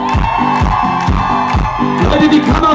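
Crowd noise from an audience cheering and whooping at a live band performance in Pfiffelbach, loud and continuous with repeated low thumping beats beneath, shouts rising above the mix.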